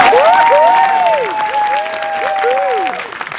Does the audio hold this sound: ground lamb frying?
no